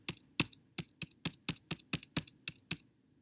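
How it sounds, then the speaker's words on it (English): Arrow keys on a computer keyboard are pressed while steering a sprite through a maze in Scratch: about eleven crisp, evenly spaced clicks, close and clear, with no talking. "And then I'm going to use my arrow key."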